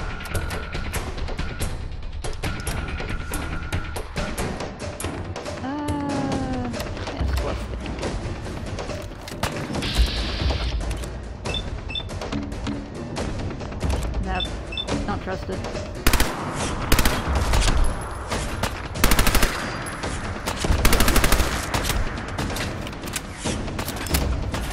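Enemy gunfire in the video game Fallout 4 rattles out in repeated rapid bursts, with some heavier thumps and game effects mixed in, loud and close over a continuous busy soundtrack, with some talk heard.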